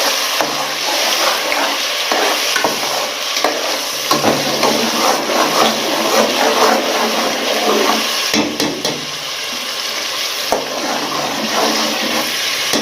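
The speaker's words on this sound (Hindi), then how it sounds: "ये अब हम इसके अंदर प्याज डालेंगे, जो हमने इसकी पेस्ट बनाई थी 3 मीडियम साइज़ के प्याज की" Onion paste made from three medium onions frying in hot ghee, a steady, loud sizzle and hiss with occasional clinks from stirring, no talking.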